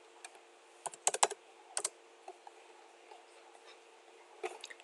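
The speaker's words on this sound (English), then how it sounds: "you might have to type in some numbers to see what works best for you" Numbers are typed on a computer keyboard in short irregular bursts of crisp close key clicks, a quick cluster near the start and another toward the end, over a quiet background with no talking.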